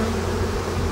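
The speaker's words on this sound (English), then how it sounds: "Oh, they're beautiful bees." Honeybees swarm thickly around an open beehive, a loud continuous droning buzz with a steady low hum close by and no voices.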